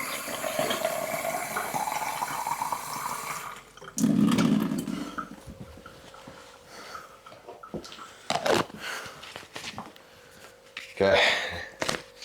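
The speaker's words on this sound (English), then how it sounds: "fill this bad boy up with some water" Tap water runs steadily into a plastic shaker bottle for a few seconds, a rising gurgling fill, followed by clatters, handling noises and someone speaking.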